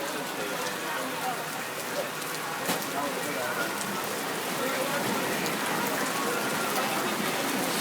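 Heavy rain falling during a thunderstorm at Cedar Point amusement park, a continuous loud wash of drops on surfaces, close and steady, with a few sharper splatter ticks scattered through.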